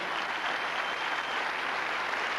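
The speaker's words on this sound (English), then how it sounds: "Give her a big round of applause." A theater audience at a David Copperfield magic show gives a big round of applause, a dense and even wash of clapping that stays at a steady level throughout, heard a little distantly.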